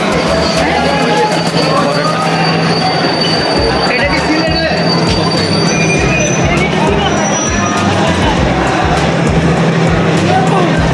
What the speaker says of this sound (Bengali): অবশেষে আমাদের উদয়ন এক্সপ্রেস ট্রেন কুমিল্লা আসলো